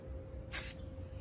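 A spray can lets out one short, sharp hissing burst of flat black paint onto an upcycled thrift-store find, close and brief against a quiet room.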